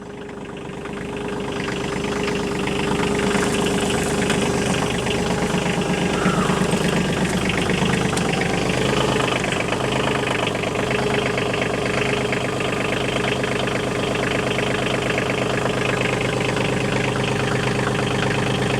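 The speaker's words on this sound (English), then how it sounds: "But in a second, all 3 of those cylinders will be firing." A KIOTI tractor's three-cylinder diesel engine idles in extreme cold, rough and knocking as it catches, then settling into a steady, loud, continuous close-up rumble with no talk.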